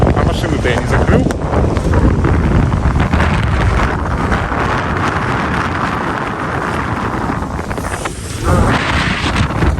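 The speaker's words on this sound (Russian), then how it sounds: "Ой, ветрюганечка начинается." Strong storm wind in Crimea gusts outdoors, roaring and buffeting the microphone in a loud, unbroken rush with a surge near the end.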